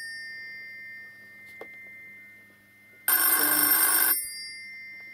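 A telephone rings once in a loud, buzzy burst lasting about a second after a quiet stretch with a faint click. It is close and clear, with no speech over it.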